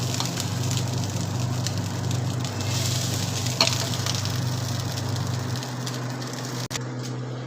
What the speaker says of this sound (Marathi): अशा प्रकारे आपण बाकीचाही परतून घेऊ